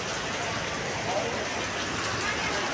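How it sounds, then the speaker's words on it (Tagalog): Heavy rain pours steadily, a dense unbroken patter on surfaces all around. "So, malakas ang ulan."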